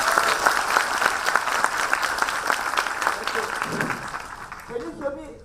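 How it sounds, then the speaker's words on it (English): A seminar audience at a financial growth summit breaks into a loud, sustained round of applause that fades toward the end, with a voice speaking over the last moments. "I'd like to ask all of you to give yourself a round of applause for being here."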